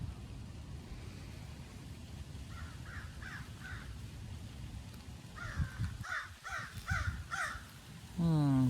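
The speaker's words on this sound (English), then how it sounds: "Joined by a bird now." Outdoors, a bird gives harsh, crow-like caws in two bursts of several rapid calls, moderately distant over a low rumbling background.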